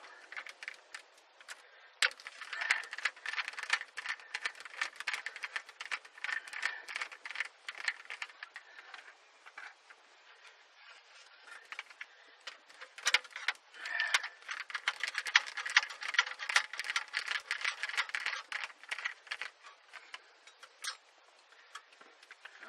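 Screws and a metal mounting plate rattle and click while a JVC KW-R930BTS double-DIN car stereo is fitted in a 2005 Toyota Echo hatchback. The small ticks and rattles are close and irregular and run in bursts throughout.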